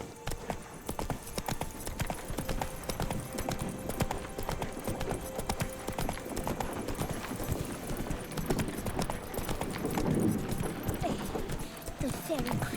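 Geralt's horse Roach gallops in The Witcher 3, a steady fast clip-clop of hooves running throughout over game ambience, with a voice speaking briefly.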